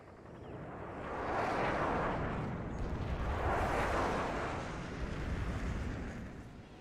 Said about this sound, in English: This is an airstrike.